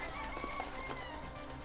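Chicken clucking in the video game ARC Raiders, a fairly faint, steady run of fowl clucks and soft calls lasting under two seconds over low game ambience, with no talking.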